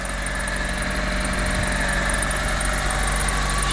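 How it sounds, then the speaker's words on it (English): Steady idle of a Daihatsu Mira engine with loose belts, a constant low rumble with a thin high squeal running over it, close and continuous with no talking. "the belts need to be tightened, because you can hear the squealing a little bit"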